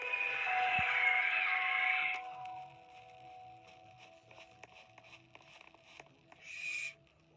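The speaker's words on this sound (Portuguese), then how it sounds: "Olha a coruja." An owl calls in the forest video game 99 Nights in the Forest, with a loud hooting cry at the start, then quieter scattered rustling and footsteps, and a short louder call near the end.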